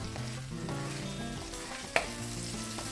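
Whole bird's eye chilies, garlic and red chilies fry in hot oil, a steady close sizzle with stirring scrapes and one sharp pop near the middle.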